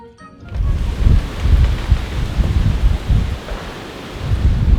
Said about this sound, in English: There hasn't been thunder, no lightning, just a ton of wind and water